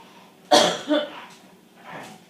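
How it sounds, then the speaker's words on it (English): A patient gives one sharp, loud cough and then a rougher throat clear, followed by a softer breathy clearing, close to the microphone during a swallowing exam. "I want to hear you cough and clear your throat"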